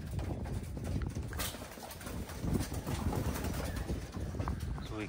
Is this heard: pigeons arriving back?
yes